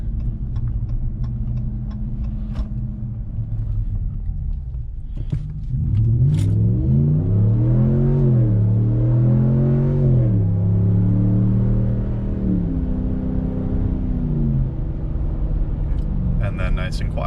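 A Ram 1500 pickup with the 5.7 Hemi V8 and a Borla S-Type cat-back exhaust pulls away at full throttle, a deep rumble rising steadily through the gears, then easing off, close and loud.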